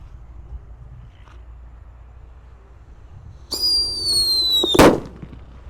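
A Mercon Blackbuster firecracker set off in a hole in the ground gives a rising whistle and then a sharp, loud bang, which follows a quiet outdoor pause.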